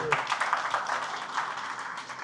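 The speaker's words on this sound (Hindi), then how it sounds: "ताली वाली बजाते रहिए भाई" Scattered audience clapping at a corporate training session, a brisk continuous patter of hands at moderate level with a voice briefly audible.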